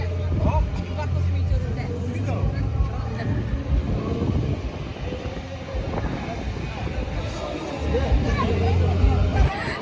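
A holiday festival crowd at the Malmo festival fills the air with a steady babble of many voices outdoors, broken by wind buffeting the microphone, with low rumbling traffic or ride noise underneath.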